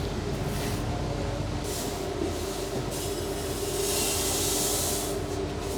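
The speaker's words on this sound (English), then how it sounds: "So this is a screen cleaner." A seed screen cleaner with three stacked sieves runs steadily, a continuous mechanical hum and rattle with hissing swells of seed and air, loud and unbroken throughout.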